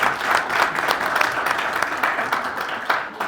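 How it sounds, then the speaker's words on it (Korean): An audience at a small-business forum claps loudly and continuously, a dense close wash of applause that tapers slightly near the end. "박수로 한번 쳐보세요."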